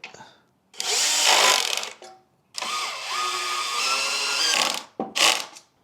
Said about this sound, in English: so I got my power tool here. This will help me to secure it.